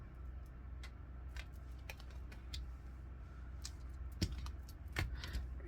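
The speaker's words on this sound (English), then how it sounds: "I'm going to pull some of these cards over to this side." Tarot cards are shuffled and slid across a tabletop, giving soft scattered taps and brushing clicks at close range in a quiet room.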